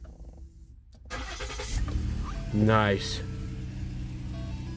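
A 2016 Lincoln MKS started by push button, a short cranking burst then the engine catching and settling into a low, steady idle, with someone speaking briefly.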